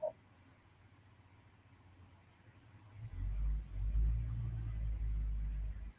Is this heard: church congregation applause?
no